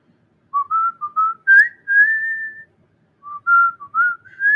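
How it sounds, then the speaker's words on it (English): A person whistles a tune alone in a quiet room, a clear run of short and held notes, then a brief pause before a second phrase begins. "All right, I'm going to whistle."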